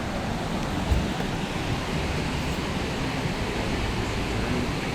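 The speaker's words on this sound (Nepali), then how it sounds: "साँच्चै के भन्नु Tegenungan वाटरफल भयो" Tegenungan waterfall in Bali in the rainy season roars as a steady, dense broadband rush of falling water, constant and fairly loud for the whole stretch with no voices over it.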